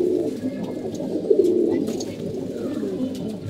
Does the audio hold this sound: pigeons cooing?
yes